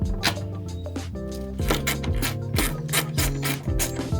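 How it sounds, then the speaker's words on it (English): A wrench turns a 10 mm tail light bolt loose on a car, making close rubbing and ratcheting grinds over a dense, steady background of sound. "Grab your wrench. Lefty loosey."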